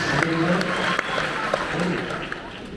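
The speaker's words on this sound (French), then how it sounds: "faites du bruit pour vous" Applause from the audience at a stand-up comedy show in the Val d'Oise fills the room as a dense, steady clatter of clapping, with a voice speaking over it.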